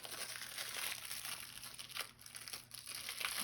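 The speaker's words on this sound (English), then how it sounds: "I gotta take this paper off." Steady crinkling and crumpling of paper being peeled off, close and continuous, with a few sharper tearing rustles along the way.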